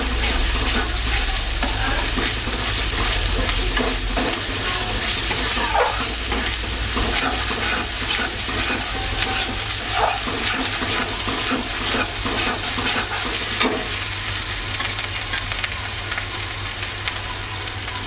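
Tomato paste hits ginger and garlic frying in a pan for dhaba-style chicken bharta, giving a loud, continuous sizzle with stirring and scraping throughout.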